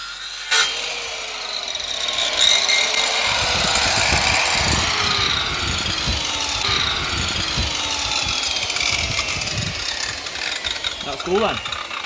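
A power planer shaves timber being cut to size for a DIY koi pond build, giving a continuous rough, rasping whir with uneven scraping passes that carries on for most of the stretch.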